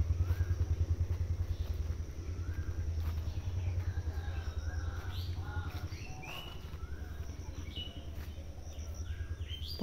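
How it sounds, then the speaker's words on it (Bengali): Birds chirp and call repeatedly on an early rainy-season morning outdoors near a field, the short tweets scattered over a steady low rumble of passing traffic and engines. "পাখির ডাক শোনা যাচ্ছে, কি সুন্দর।"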